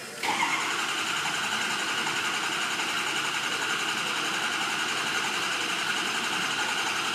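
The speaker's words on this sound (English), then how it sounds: "Still going to have long cranks for a while until you take on the road and really get it some wide open throttles going on." A 6.0L Powerstroke diesel engine, just back from a right-bank fuel injector replacement, catches after cranking and settles into a loud, steady running clatter close by, with no talking over it.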